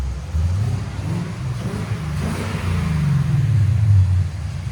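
A 2021 Ford Mustang GT with a 5.0L V8 and Valvetronic Designs exhaust, heard from outside with valves open: a deep, loud, throaty rumble swelling through a few revs and then settling back.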